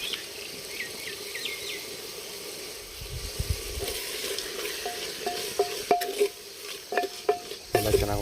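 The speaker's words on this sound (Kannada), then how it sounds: "ಎಲ್ಲ ಚೆನ್ನಾಗಿ ಒಂದ್ಸಲ ಮಿಕ್ಸ್ ಮಾಡ್ಕೋಬೇಕು" Chilli powder, coriander powder, turmeric and salt are stirred into kushka rice frying in a pot outdoors in a village, with soft sizzling and then repeated sharp scrapes and clinks of a ladle growing louder toward the end.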